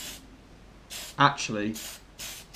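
Short aerosol bursts of bright pink paint sprayed inside a plastic Proline VW Bug Baja RC body shell for a Traxxas Slash 4x4. Several separate hissing puffs come close by, and someone speaks briefly between them.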